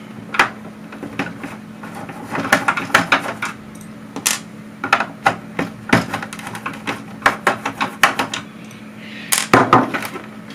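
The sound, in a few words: removing screws from a Commodore 64 case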